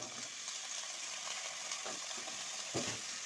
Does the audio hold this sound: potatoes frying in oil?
yes